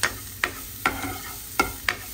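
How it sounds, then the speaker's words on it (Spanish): Onion browning in a little oil, a soft steady sizzle broken by four or five sharp clacks of a utensil stirring against the pan, close and with no voices. "aquí está la cebollita dorando"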